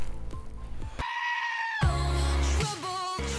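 A goat-like bleat sung by a human voice, played from a video, heard as a few loud, wavering cries in quick succession, close and clear with no talk over it.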